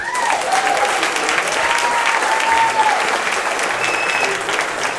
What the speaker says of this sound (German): großer Applaus für Carmen